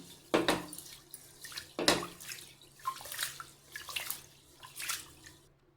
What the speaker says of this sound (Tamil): இது நல்லா கழுவி 2 முறை நல்லா கை போட்டு கழுவி எடுத்து வந்துக்கலாம்